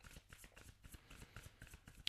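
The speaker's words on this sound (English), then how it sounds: "let's pull a couple of oracle cards for guidance, considering these energies" Oracle cards being shuffled and pulled during a reading, a quick run of crisp riffling and flicking bursts with a sharp slap at the very end, close by and with no talking.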